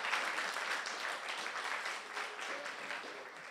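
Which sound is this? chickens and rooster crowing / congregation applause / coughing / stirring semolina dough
congregation applause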